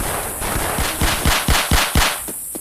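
Automatic rifle fire in the Vietnam war shooter Vietcong, with a rapid string of about ten close, sharp shots in a steady burst over a noisy background and no talking.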